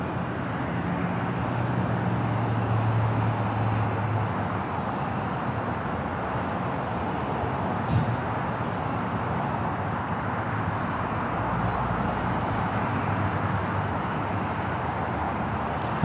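An American Airlines Boeing 777-200ER arriving at LAX from JFK rumbles steadily at a distance, a broad continuous jet roar with no voices.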